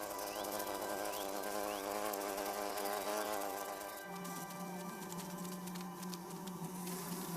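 A bumblebee buzz-pollinating a flower gives a steady, close, droning hum throughout, and partway through it shifts into a louder, sharper and higher-pitched vibrating buzz.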